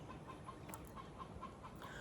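Chickens cluck softly at a distance in a steady, repeating pattern of short calls over a noisy outdoor background.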